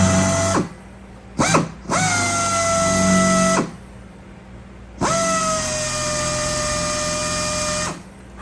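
A power drill whines in three bursts, a short one then two long steady runs, with quiet pauses between, drilling out a rivet on the horizontal stabilizer of a Van's RV-14 airplane kit.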